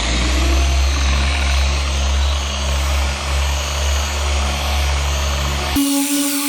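Car paint polishing machine running steadily at speed 5 on a black car, a loud continuous motor drone with a low hum that stops abruptly near the end.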